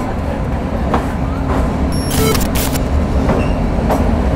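Kalka–Shimla toy train rolling through a long, dark tunnel: a steady, loud rail rumble with rhythmic wheel clatter fills the whole stretch, and a brief higher screech rises partway through.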